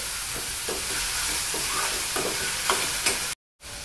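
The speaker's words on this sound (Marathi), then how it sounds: "याच्यामध्ये आपल्याला कांदा चांगला परतून घ्यायचा आहे." Onion sautéing in a pan, steady sizzling with scraping stir strokes at intervals, close and fairly quiet, cutting out briefly near the end.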